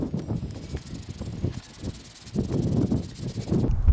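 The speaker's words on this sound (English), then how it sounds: "we're going to brush the carpet with the brush" A brush scrubs car carpet with upholstery and carpet cleaner in rapid, uneven bristly strokes, a close rasping hiss that pulses in short bursts and briefly eases before picking up again.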